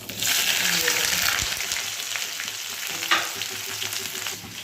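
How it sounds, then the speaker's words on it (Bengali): Okra sizzles and fries in hot oil after a nigella seed tempering, a steady bright crackle running throughout with soft stirring and a few sharper pops, close and fairly loud. "দুটো কালো জিরে ফোড়ন দিলাম এবার এই ঢেঁড়সগুলো সব"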